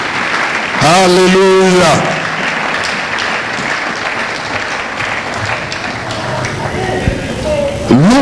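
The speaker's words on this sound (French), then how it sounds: "Est-ce que nous pouvons acclamer la parole du Seigneur?" A church congregation breaks into a short round of applause and voices to acclaim the word of the Lord. A singer sounds a sustained note over the clapping, and someone speaks afterward.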